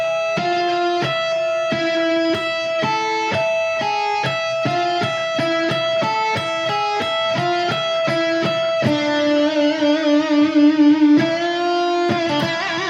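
An electric guitar plays a fast neoclassical pedal-point lick, repeatedly returning to one low note between higher notes, clean tone with some sustained vibrato near the end.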